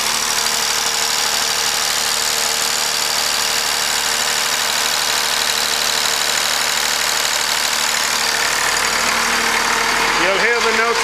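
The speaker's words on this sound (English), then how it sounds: "You'll hear the note of the engine change." A generator engine runs steadily at a constant mid-pitched drone with a mechanical hum, then near the end its note rises and wavers as it is sped up, loud and close throughout.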